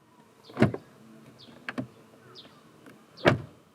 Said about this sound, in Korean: 도어를 열고 닫을 때도